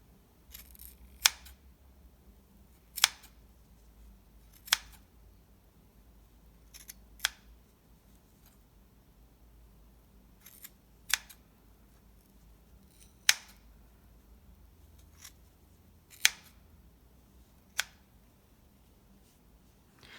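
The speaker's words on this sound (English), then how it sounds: "what we're going to do is cut those loops in half" Sharp, crisp scissor snips cut through the yarn loops of a handmade pom-pom, about a dozen close, isolated clicks spaced irregularly over a quiet background with no talk.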